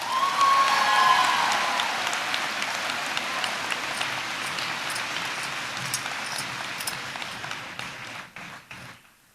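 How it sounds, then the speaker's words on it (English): Applause from a large audience at a high school graduation ceremony, a dense clapping roar that holds steady and then thins into scattered claps before fading out. "we ask that you be respectful with your applause"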